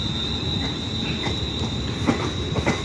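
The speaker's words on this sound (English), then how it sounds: "Leaving now is the 1033 London North Western Railway service, London Euston, worked by 35125 and" A London North Western Railway passenger train for London Euston pulls out of Crewe station, giving a steady rolling rumble with faint wheel clicks and a thin, sustained high squeal, loud and close.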